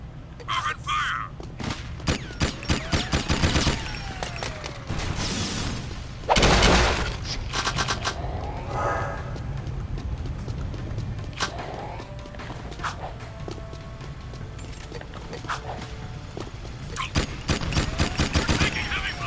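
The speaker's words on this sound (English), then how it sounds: "Taking heavy fire!" Heavy gunfire rattles through a battle in the video game Jak 2, with dense machine-gun bursts, booming blasts and footsteps running continuously under shouted voices.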